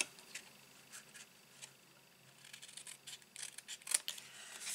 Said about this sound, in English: take your little scissors, instead of cutting them out and angling them, just literally snip straight the corner off